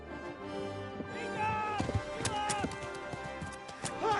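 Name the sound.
horses clip-clopping in video game Kingdom Come: Deliverance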